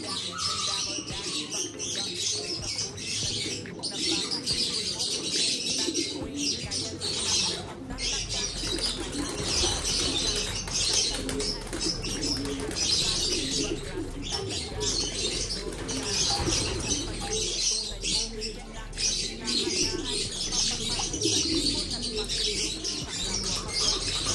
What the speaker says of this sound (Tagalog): Yan paghahon niya mga kalapatid